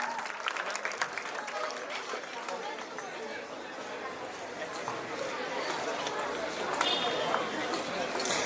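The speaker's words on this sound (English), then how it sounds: "Please welcome with a huge round of applause, Mr. Subhas Bohra." Audience applause fills a school opening ceremony for a Model United Nations event at an international academy, a steady, dense clatter of clapping mixed with crowd chatter lasting throughout and swelling slightly toward the end.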